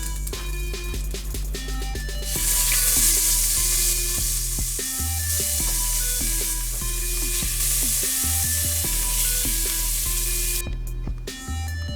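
Oxtail pieces browning in hot oil in a pan, a loud steady sizzle with a hissing spray layered over continuous background music, no talk.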